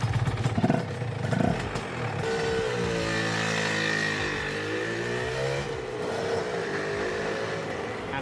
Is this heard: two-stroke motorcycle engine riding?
yes